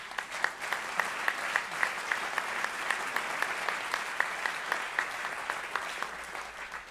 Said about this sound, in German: ja bitte einen großen Applaus.